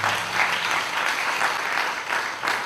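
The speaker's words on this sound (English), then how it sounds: "Let us give them a big round of applause." Steady audience applause fills a donor appreciation ceremony, a dense, even wash of many hands clapping that holds for a few seconds with slight swells.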